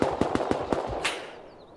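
Gunshots ring out in the Rust video game, a quick burst of about six sharp cracks spaced roughly a quarter second apart, then a single louder shot followed by fading ambience.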